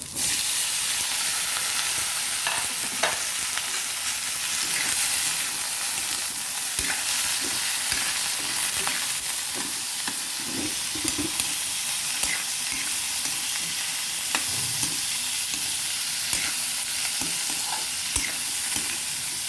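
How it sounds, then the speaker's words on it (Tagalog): Green beans and chayote sautéing in a hot pan, a steady close sizzle with occasional scraping stirs throughout, no voices. "Igisa lang muna natin ng igisa."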